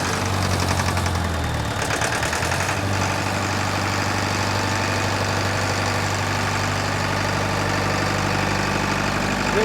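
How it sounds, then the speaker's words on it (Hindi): A Tata four-cylinder 40 kVA open diesel generator set by Chadha Generator runs with a steady, loud low chugging drone, an even idle-like rhythm throughout with a brief shift in tone early on. "ये टाटा का 4 सिलेंडर इंजन के साथ 40 केवी का ओपन जनरेटर सेट होता है"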